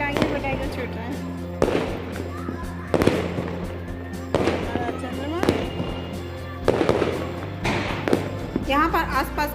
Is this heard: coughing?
no